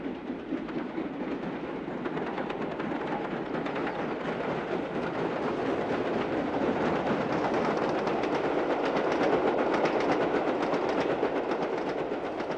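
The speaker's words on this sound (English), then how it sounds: "The pioneer locomotive, number 4771 Green Arrow, is preserved as another member of the National Railway Museum's collection." Preserved LNER V2 class steam locomotive No. 4771 Green Arrow running on the main line, producing a loud, steady rumble of rolling wheels and rail noise with a faint rhythmic clatter throughout.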